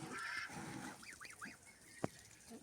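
Young geese honking in short, repeated nasal calls, fairly faint and outdoors, with a single sharp knock near the end.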